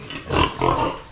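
Piglets oinking close by, two quick grunting snorts in a row with no talking.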